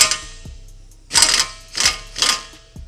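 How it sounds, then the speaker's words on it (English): An impact wrench loosening a nut on a Mopar vehicle part, firing in three short loud bursts with brief pauses between, close up with no talking. "I have my impact here. Let's get this nut off of here."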